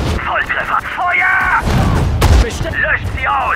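Gunfire and artillery blasts thump through a Sudden Strike 4 battle near Lille in 1940, with loud booms and bursts under German-speaking soldiers' shouted commands.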